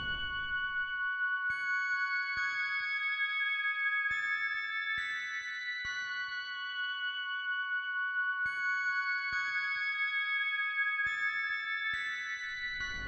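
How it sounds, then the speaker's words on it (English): Layered synth pad for the bridge of an FL Studio beat, with soft sustained chords that shift every second or so and quiet thuds beneath, played alone at a low, even level. "Then for the bridge, I have layered a pad to give it more complexity, which sounds like this."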